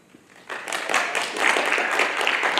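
A thin, half-hearted round of audience applause at a school comics challenge vote, building from quiet scattered claps into a steady moderate patter for about two seconds.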